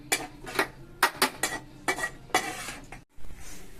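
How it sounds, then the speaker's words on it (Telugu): Pieces of bitter gourd frying in a pan and stirred at intervals, producing a series of loud, close spatula scrapes and clatters over a faint sizzle, with no talking. "కాకరకాయ మధ్య మధ్యలో ఇలా కలుపుతా ఉండాలండి, లేకపోతే మాడిపోతాయి."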